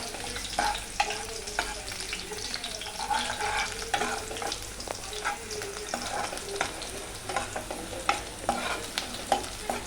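Chopped onions sautéing for pav bhaji bhaji in a pan over a low flame, a steady close sizzle broken by frequent scraping stirs and clinks of the spoon throughout.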